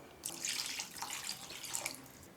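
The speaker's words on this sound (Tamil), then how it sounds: "இப்போ மிக்ஸி ஜார் கழுவி சேர்த்துக்கலாம்" Water runs and splashes steadily for a couple of seconds as a mixer grinder jar is rinsed under a tap, fairly close and with no talking.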